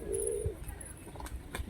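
A male yellow-eyed pigeon gives a short, close coo, with faint chirps and light rustling around it.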